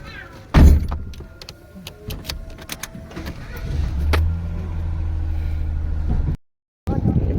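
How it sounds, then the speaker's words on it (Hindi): A family settles into a car and drives off: a loud door thump, scattered clicks and rustles, then an engine starts and idles steadily, with a brief cut near the end and voices heard faintly. "आयशा को ऐसे बैठाएंगे और जो है वो हम भी जो है वो बैठते हैं गाड़ी के अंदर।"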